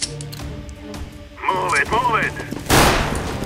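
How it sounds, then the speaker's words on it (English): Burst-fire gunshots in Counter-Strike: Global Offensive, sharp bursts and crackling shots mixed with game sounds and a loud blast near the end, alongside in-game voices. "burst fire."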